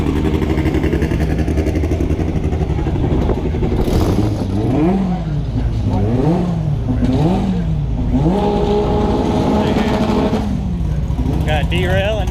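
A demolition derby car idles and revs in the pits at the Hail Mary Derby 2020, its loud, close engine rising and falling in repeated throttle blips while people talk nearby.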